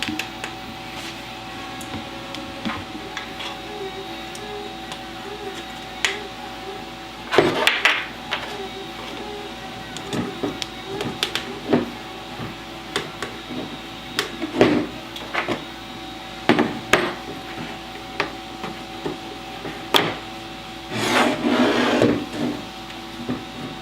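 Bearings are slid by hand into a Zyltech Hypercube Evolution 3D printer frame, making close, intermittent scrapes, clicks and taps over a faint steady hum.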